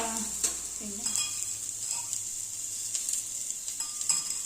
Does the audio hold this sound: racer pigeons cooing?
no